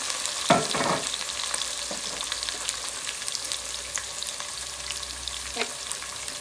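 Onions frying in oil with salt and a peppercorn while browning, a steady, close hiss with scraping stirs near the start and occasional crackles throughout, no talk.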